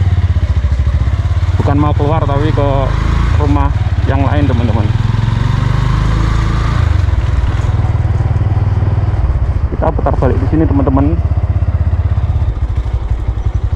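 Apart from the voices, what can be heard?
motorcycle riding ahead through housing estate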